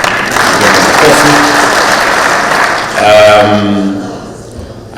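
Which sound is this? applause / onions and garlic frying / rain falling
applause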